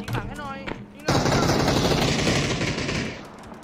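Sustained rapid automatic gunfire in PUBG erupts after a brief stretch of voices, a loud dense burst holding steady for a few seconds before tapering off.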